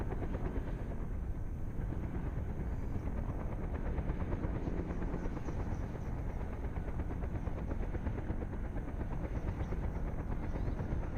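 A helicopter in Microsoft Flight Simulator 2024 over the Grand Canyon gives a steady, dense rotor and turbine roar with rapid blade chop, constant and even throughout with no voices.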